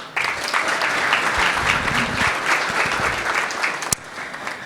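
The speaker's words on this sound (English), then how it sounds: "Please give yourself a round of applause" An audience at a business forecast breakfast bursts into applause, a fairly loud, dense clapping that starts abruptly and holds steady, then drops off near the end after a sharp knock.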